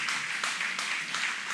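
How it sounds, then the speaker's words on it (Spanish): A church congregation applauding during a worship service, a dense, continuous clatter of many hands clapping in rhythmic waves, filling the room. "Póngase de pie en esta hora y dele una ofrenda de palmas al Señor"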